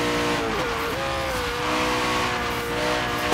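Koenigsegg and Venom supercars racing in Forza Horizon 3, a loud sustained engine roar with a steady high whine and some tire noise, holding steady throughout with no speech.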